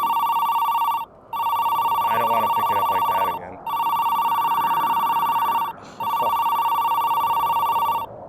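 A telephone rings inside a video game with loud electronic trills in four long repeated bursts separated by brief gaps. A voice talks quietly over the ringing.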